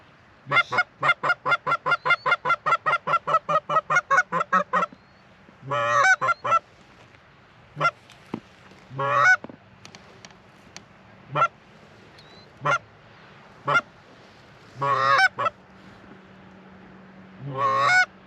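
Early-season geese honk repeatedly during a goose hunt, a rapid run of loud, close calls at first, then scattered bursts and single honks over a steady low background hum.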